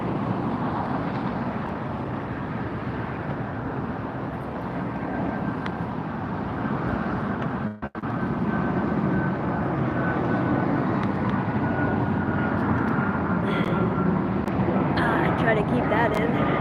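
An airliner performing a go-around at LAX, a steady rumbling engine roar at moderate distance that holds throughout with a brief dip midway, with someone talking over it.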